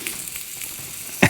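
Sausages frying in an X-Boil Toaks frying pan at a wild camp on Dartmoor, giving a soft steady sizzle throughout with one louder crackling burst near the end.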